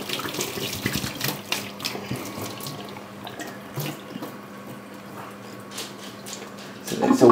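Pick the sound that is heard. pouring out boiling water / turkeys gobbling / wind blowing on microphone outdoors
pouring out boiling water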